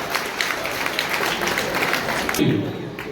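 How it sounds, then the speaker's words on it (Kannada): An audience claps in applause at a Vishwakarma puja festival ceremony in Shirasangi: steady, dense clapping that swells slightly near the end, with a voice speaking over it. "ದಯಮಾಡಿ ಚಪ್ಪಾಳೆ ತಟ್ಟಬೇಕು"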